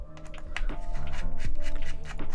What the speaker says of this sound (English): Allo keyboards always sound like ass.